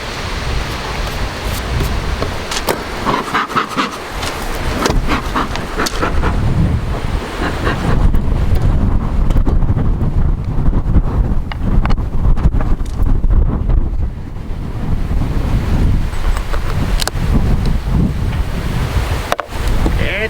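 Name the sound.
wind blowing outdoors at a beehive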